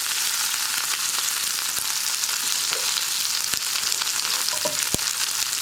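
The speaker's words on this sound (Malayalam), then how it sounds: "ഇതിലേക്ക് നമുക്കിനി കറിവേപ്പിലയും വറ്റൽ മുളകും ചേർക്കാം." Curry leaves and dried red chillies crackle in hot oil after mustard and fenugreek seeds, added while cooking a Kerala tomato sambar; a steady close sizzle runs throughout with occasional sharp pops and no talk.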